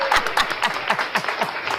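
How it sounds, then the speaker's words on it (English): Applause sound effect played on a morning talk show, a brief burst of crowd clapping with irregular claps, fairly loud and close, with voices talking underneath. "we can go ahead and put the applause on too"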